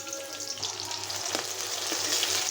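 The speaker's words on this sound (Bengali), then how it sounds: "এখানে আমি পরিমাণ মতো তেল দিয়ে দিলাম দিয়ে দিব পেঁয়াজ কুচি" Chopped onion frying in hot oil gives a continuous close sizzle and crackle that builds slightly as it goes on.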